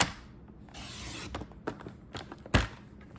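Paper cardstock sliding and rasping through a trimmer as it is cut for a card, a close scraping rub with a few light clicks and one firm snap near the end.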